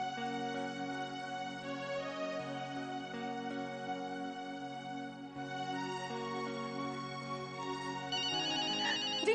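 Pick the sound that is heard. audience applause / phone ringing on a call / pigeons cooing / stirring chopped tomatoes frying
phone ringing on a call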